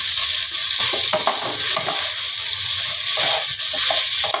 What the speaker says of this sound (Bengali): চালটাকে একটু ভালো করে ভাজতে হবে